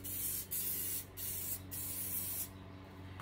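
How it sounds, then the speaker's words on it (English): Spray adhesive hissing from an aerosol can onto a craft cow bell in several short bursts with brief gaps between them, close and fairly quiet, with no talk. "you're going to give your item a coat of your spray adhesive"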